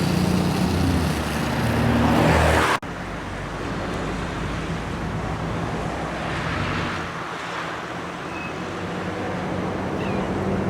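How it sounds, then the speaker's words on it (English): Street traffic along the waterfront avenue Avenida 12 de Octubre in Bariloche, Argentina, heard as a steady broadband roadway rumble, louder and closer at first, then a softer, continuous wash of passing cars and wind. "This is Avenida 12 de Octubre, which is also the main drag that goes along the waterfront and out to the bus depot."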